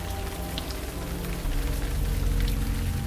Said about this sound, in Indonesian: Hujan kembali turun.